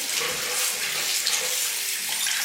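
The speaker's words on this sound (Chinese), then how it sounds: "下面我帮老赵将这个小葱给它洗干净" Scallions are rinsed under a steadily running kitchen tap, a continuous close hiss of water splashing over the greens with no voices.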